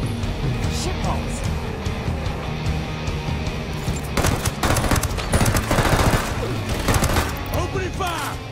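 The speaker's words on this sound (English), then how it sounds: "Opening fire." Bursts of automatic gunfire and scattered shots from a Tom Clancy's Ghost Recon Wildlands mission, dense and loud throughout, with heavier volleys in the second half over game ambience and voices talking.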